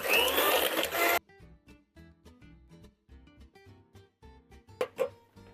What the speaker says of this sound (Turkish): Şöyle 1 bardak yine şekerimizi ilave ettim ve hemen yumurta akı gibi 10-15 dakika güzelce çırpıyorum